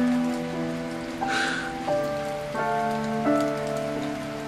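Steady rain patters on a surface with even hiss throughout, and a soft melodic music bed plays over it with no talking.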